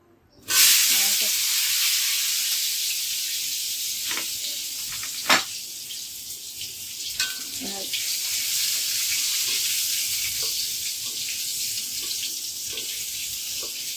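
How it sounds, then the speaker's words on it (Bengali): Potatoes with cumin drop into a wok and sizzle strongly from then on, a close, steady frying hiss broken by a few clatters and scrapes of stirring. "জিরে দিয়ে এইবার আমি আলুটা কড়াইতে দিয়ে কিছু সময় নাড়িয়ে চাড়িয়ে"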